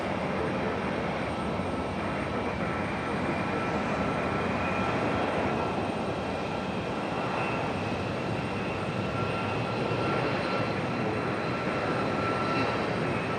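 Faint, steady jet engine whine and low rumble from an Icelandair airliner taxiing at Raleigh-Durham airport, a continuous distant drone with a thin high tone.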